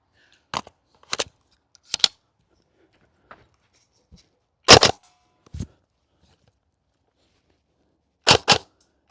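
Silverback MDR-X rifle shots hit wood targets, sharp close cracks in quick pairs and singles separated by silent pauses, with faint impact ticks between them.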